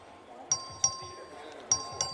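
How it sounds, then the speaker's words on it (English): A voting bell in the Texas House chamber rings four times in quick, uneven strikes, each a sharp ding with a short ringing decay over quiet room noise. "The clerk will ring the bell."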